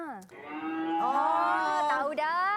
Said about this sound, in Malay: ini bunyi lembu